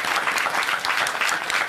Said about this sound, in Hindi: इसलिए ताली बजाओ इनके लिए महाराज